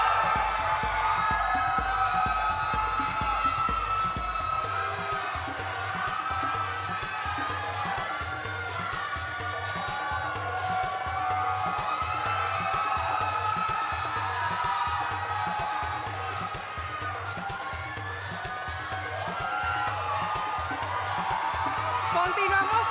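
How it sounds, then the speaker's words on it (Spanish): A pageant audience at the Miss República Dominicana Universo coronation gala cheers, whoops and applauds loudly and continuously for a contestant, a dense crowd roar that holds steady throughout with shouts rising above it. "Recibamos con un fuerte aplauso a Eoana Constanza, Distrito Nacional"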